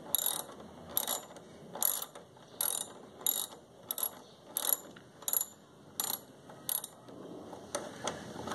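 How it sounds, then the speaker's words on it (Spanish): A ratchet clicks in repeated rapid bursts while backing out a hex screw from a Renault Fluence headlight, about a dozen short strokes at an even rhythm, close and alone. "Procedemos con la extracción del segundo tornillo hexagonal."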